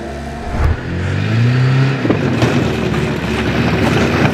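A homemade all-terrain vehicle riding on wheels built from tractor tracks drives and revs, its engine rumbling close by and climbing in pitch as it accelerates, with a few knocks and rattles over a steady motor drone.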